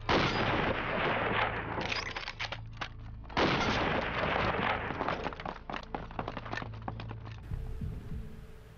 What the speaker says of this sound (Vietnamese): Xem tiếng súng từ đâu.